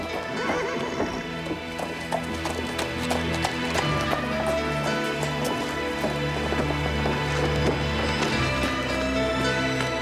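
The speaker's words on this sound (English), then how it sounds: "Isn't that Jack's horse?" Horse hooves clip-clop steadily and loudly up close, with a horse neighing and whinnying over the rhythmic footfalls and a faint patter like rain in the background.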